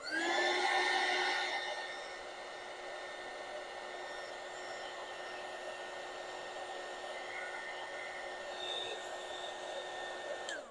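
A heat tool blows hot air over craft card for a jumbo card, a steady close whooshing roar that is loudest in the first two seconds and then holds at a slightly lower level without any talk.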